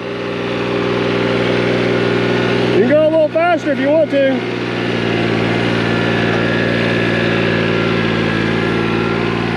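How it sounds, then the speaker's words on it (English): A 16-horsepower John Deere 655 lawn tractor engine idles steadily with a low, even hum throughout, while a person speaks briefly over it partway through. "It's only a little 16 horse John Deere 655, and it has been a handy little tractor over the years."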